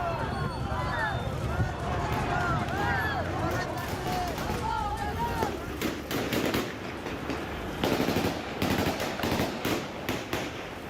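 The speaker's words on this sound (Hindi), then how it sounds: "तालिबान के लड़ाकों ने उन पर अंधाधुंध फायरिंग शुरू कर दी" Taliban fighters firing guns at marchers: rapid, irregular gunshots crackle through a constant din of crowd noise and shouting, with a dense cluster of shots near the end and voices throughout.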